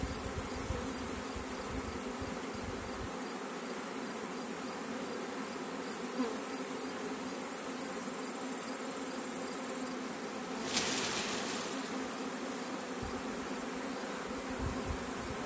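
A honeybee swarm hums around a hive in a dense, continuous buzz, close and steady, with occasional louder passes of single bees near the microphone.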